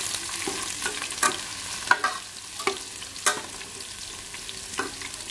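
Ginger dropped into browned onions frying in a pan: a low sizzle under a series of sharp scraping stirs, roughly one every second, close by, no voices.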